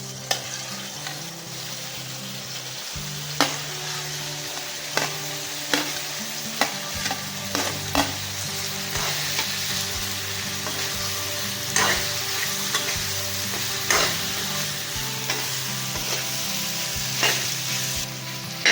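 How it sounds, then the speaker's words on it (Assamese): Pork frying in a pan with fiddlehead fern greens: a steady, loud sizzle broken by regular clanking strokes of a spoon stirring against the pan, close up, with no talk. "এতিয়া মই ইয়াত মাংসখিনি দি দিম"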